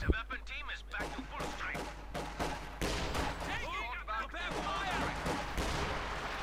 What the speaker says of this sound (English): With another infantry gun actually here on the way for Warpig.